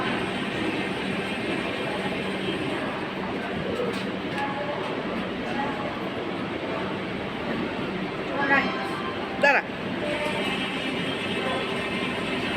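A moving train heard from beside the open door of a passenger coach, a steady loud rumble and wind roar throughout with brief clanking bursts near the end; no one speaks.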